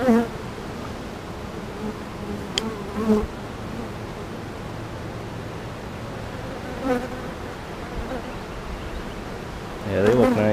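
Honey bees swarm around an open hive during a weekly beekeeping inspection, a dense, steady buzzing drone close by, with individual bees whining past, and a voice speaks briefly over it.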